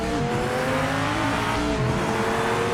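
Car engine in the PMR racing game roaring at full throttle, a loud sustained drone with rising harmonic tones and a hint of tyre squeal, no voices.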